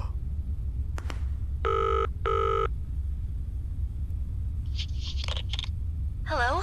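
A telephone rings in the horror game Zoochosis with two close, clear electronic ring bursts in a quiet room. Brief tonal game sounds follow afterward.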